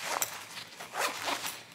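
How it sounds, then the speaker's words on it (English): Zipper on the pocket of a TushBaby ergonomic baby carrier hip seat being pulled open in a few quick rasping strokes, close and fairly quiet, with no talking. "the zipper pocket is great because,"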